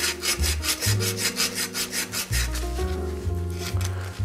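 Emery cloth scrubs rust off the brake posts of a Diamondback Wildwood bicycle, a loud, close, rasping rub in fast back-and-forth strokes that keeps a steady rhythm throughout.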